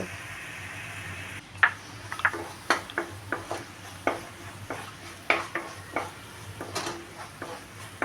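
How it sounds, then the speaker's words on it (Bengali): Ground chili, cumin and coriander being sautéed in a pot for khichuri, a low simmering hiss punctuated by a string of sharp spoon knocks and scrapes against the pot, near and unhurried, with no talking. "সবগুলো মশলা একসাথে দেওয়ার পরে আমি ভালো করে কষিয়ে নিব"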